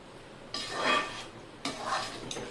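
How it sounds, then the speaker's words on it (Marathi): Puran with melting jaggery being stirred in a thick pot: two scraping, swishing strokes of the spoon against the pot, close and moderately loud, with quiet pauses between. "घट्ट होईपर्यंत ते आता असंच हलवायचं आहे"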